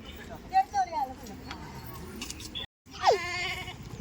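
Several short goat bleats ring out over a noisy background, one early cluster and another louder bleat after a brief silence.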